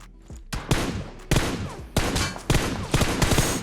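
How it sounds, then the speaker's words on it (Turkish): Gunfire in PUBG Mobile comes as loud, close volleys of sharp shots, with about six quick bursts fired one after another at fairly even intervals. "bana bayağı iyi sıkıyorlar"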